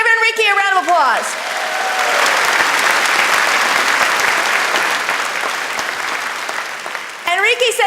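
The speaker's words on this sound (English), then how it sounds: "Give Enrique a round of applause." Audience applause for a graduating student at a welcome-back event, a dense steady burst of many hands clapping that fills most of the stretch between brief bits of talk at the start and end.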